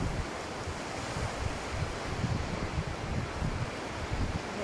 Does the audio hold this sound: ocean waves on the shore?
yes